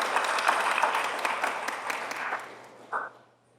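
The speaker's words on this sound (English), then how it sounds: "Give a round of applause, please, to Valentin" Audience applause greets a speaker taking the stage at a talk on sonic branding, a dense steady clapping that tapers off near the end, with a brief tone just before it fades out.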